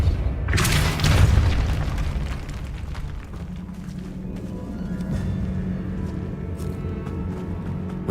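A Depulso spell in Hogwarts Legacy lets off a loud booming blast that swells and rumbles for about two seconds, then settles into a lower sustained rumble and ambient drone with no speech.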